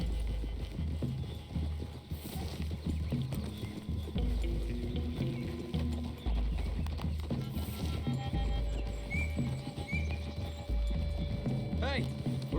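Horse hooves clip-clopping at a walk in the video game Red Dead Redemption 2, irregular soft thuds under game dialogue and ambient sounds.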